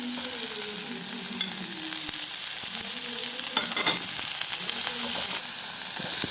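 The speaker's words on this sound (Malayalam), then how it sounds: "ഇനി ഈ സവോള നല്ലതുപോലെ ഒന്ന് വഴറ്റിയെടുക്കണേ" Chopped onions sauté in hot oil in a pan and are stirred for an egg snack, a steady close sizzle with occasional spoon scrapes and clinks against the pan.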